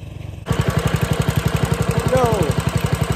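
A homemade belt-drive mud motor boat engine starts abruptly and runs at a steady idle, a loud close single-cylinder putter with a rapid even pulse, and a brief higher whine rises over it near the end.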